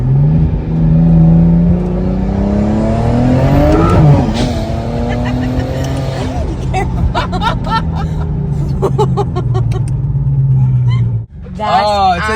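A modified BMW accelerates hard, heard from outside, its engine note rising through the revs with gear changes and a brief drop before climbing again, loud and close, with people talking over it.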